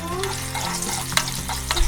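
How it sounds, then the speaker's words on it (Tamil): Cashews and raisins roast in a pan, a continuous close sizzle broken by a few sharp scrapes and clinks of stirring, with no voices. "முந்திரியெல்லாம் வந்து வறுத்து எடுத்துக்கிறேன்."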